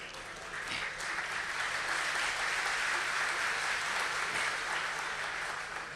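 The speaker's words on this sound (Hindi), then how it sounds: "ये तालियां ब्याज शब्द पर ही बजी हैं" Audience at a Hindi poetry recital breaks into steady, dense applause that swells in and holds evenly for several seconds, a broad wash of clapping from a large crowd.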